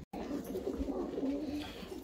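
Bango show pigeons, short-beaked ornamental birds, coo close by after a moment of silence, a low rolling burble that keeps going with a few soft warbling rises.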